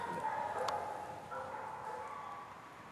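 Hunting dogs bark and yelp outdoors during a squirrel hunt, a moderately distant burst of barks near the start trailing into fainter whining calls over a steady wind-like background.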